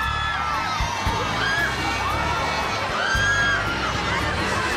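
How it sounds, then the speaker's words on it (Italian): A crowd screams and cheers as a celebrity arrives by car at a couture fashion event, with high excited shrieks and whoops rising in waves over a dense, close roar of voices. "Le grida, si sentono le grida, si sente l'isteria"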